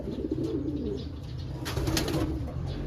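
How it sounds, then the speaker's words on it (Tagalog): A black check pigeon coos in low, repeated throaty notes, close by and alone over a steady background hum, with no talking. "Ito yung malaking ibon natin, na black check."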